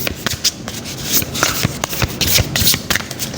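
A deck of playing cards is shuffled close up, a dense papery riffling with quick repeated flutters and soft taps running throughout, no talk.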